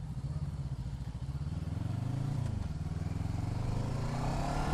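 A new Voge 500R motorcycle engine idles and revs up nearby, the steady mechanical drone rising in pitch as it pulls away, with faint rattling.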